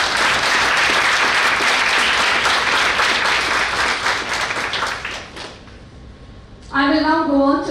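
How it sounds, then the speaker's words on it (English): An audience at an awards ceremony applauds with sustained, crowded clapping that fades out, followed by a voice speaking at the end. "A big round of applause for them."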